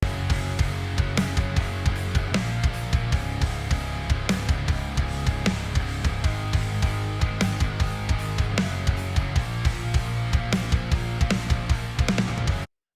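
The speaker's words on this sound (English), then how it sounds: "The kick is far too clicky and thin, more suited to fast metal music." A modern emo drum mix whose kick sounds clicky and thin, suited to fast metal, hammers out a steady beat alongside snare and full band, the low thumps weaker and sharper throughout.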